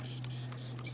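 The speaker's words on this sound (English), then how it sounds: "you just use a spray bottle. Just wet the desk down." A handheld spray bottle misting water onto a classroom desk, four quick hissing bursts in a steady rhythm, close and fairly soft, over a low constant hum.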